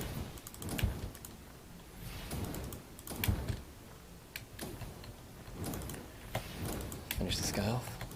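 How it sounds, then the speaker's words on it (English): Computer keyboard keys and mouse clicks tapping in quick irregular bursts during PC gameplay of A Valley Without Wind, close and fairly quiet, mixed with someone talking throughout. "I'm using mouse and keyboard to control this"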